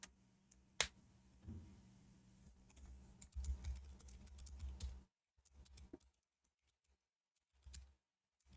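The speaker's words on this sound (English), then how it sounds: "Now I'm distracting Jack by typing messages." Computer keyboard typing during a Marbles on Stream speed match, with quick irregular clusters of clicks and taps, fairly faint, broken by a few short pauses and near-silent gaps.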